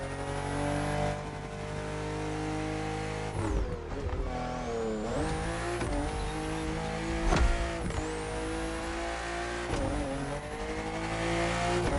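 A BMW M4 CSL in the racing game The Crew Motorfest roars under hard acceleration, its engine note rising and dropping with repeated gear shifts and brief tire squeals, loud and continuous with no talking.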